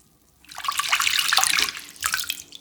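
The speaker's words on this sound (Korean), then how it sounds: "큰 볼에 담아서 찬물을 잠기도록 부어주고 15분 담가주세요" Cold water pours from a tap into a large bowl of cut potatoes, a steady, fairly loud splashing rush that starts abruptly, runs for about two seconds and trails off with a brief gurgle.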